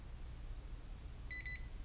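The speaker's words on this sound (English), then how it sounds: "go right stick, and you'll hear it beep" An ImmersionRC Vortex drone beeps after accelerometer calibration: a quick run of about three short high beeps near the end, faint against a low background hum.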